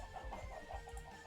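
Chickens cluck in a rapid, bubbling run over a low hum, faint but steady, with no voices.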